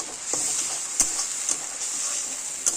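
Ginger, garlic and chili paste spices frying in a pan, a steady bright sizzle broken by a few sharp clicks and scrapes from stirring.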